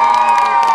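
Loud concert crowd cheering and whooping, a brief burst of excited voices, sounding close and energetic.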